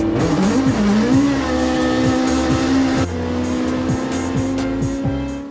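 Rally car 'Baby Blue' driven by Frank Kelly on a summit run, heard from on board: a loud, continuous engine roar rising and falling through gear changes, with repeated sharp shift blips and no talk.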